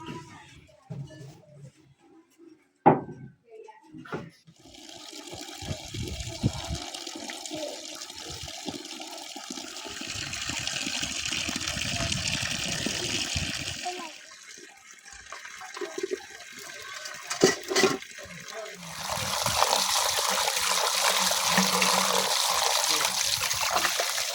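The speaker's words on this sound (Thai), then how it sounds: "เมียเก็บถ้วยบวงเอาไปล้าง" Water running from a tap while bowls and dishes are washed by hand, a steady splashing stream with clinks and pauses, growing louder and fuller toward the end, in a rural home kitchen.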